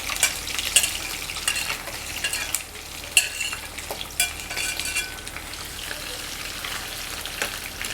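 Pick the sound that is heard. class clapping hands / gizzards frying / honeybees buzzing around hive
gizzards frying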